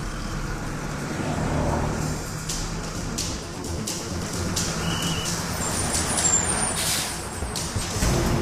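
A bus pulls up on a city street, with the constant rumble of engines and traffic and short hissing bursts of air brakes as it comes to a stop. No one speaks.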